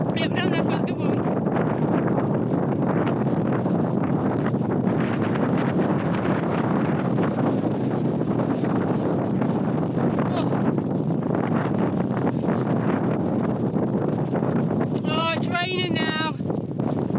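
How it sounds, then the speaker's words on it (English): Strong wind gusting between rocks near a remote 235-year-old lighthouse at Eilean Glas in the Outer Hebrides, a loud continuous roar buffeting the microphone throughout, with brief whistling squeals near the end. "It is windy."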